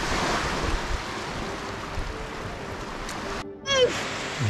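Waves wash steadily onto a beach along the Clew Bay coast in Mayo, Ireland, with wind noise over the microphone, a brief gap, then a short rising whistle-like tone near the end.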